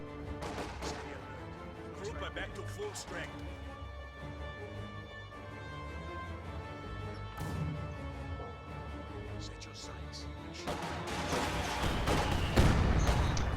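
Heavy mortar fire rains on a Volksgrenadier infantry squad in a war strategy game. Booming impacts and gunfire crackle steadily, swelling louder near the end, while a voice talks over the battle.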